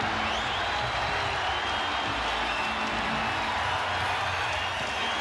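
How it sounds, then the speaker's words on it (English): A basketball arena crowd roars during a tight Lakers playoff game against Yao Ming's team: a dense, steady wall of cheering and noise with no breaks. "Crowd trying to rile up the LA Lakers."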